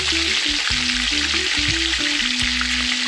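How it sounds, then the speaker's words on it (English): Turkey wings fry in a pot for Jamaican stewed turkey, giving a close, constant crackling sizzle that stays loud and even throughout, with a rhythmic music bed below it. "Stay tuned guys while she fry her turkey wings."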